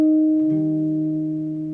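Sustained jazz guitar chord in a pure major voicing, one inner note shifting up about half a second in as the leading tone resolves to the root, ringing steadily and fading slowly, close and clear with no voices.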